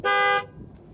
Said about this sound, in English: for 2020, they brought back the dual note horn